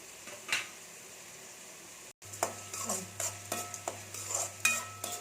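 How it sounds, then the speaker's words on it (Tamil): Onions sautéing in oil in a pan for a potato stir-fry, a soft low sizzle with intermittent spatula scrapes and clinks against the pan, close and fairly quiet, no speech. "வெங்காயம் கொஞ்சம் வதங்கட்டும்"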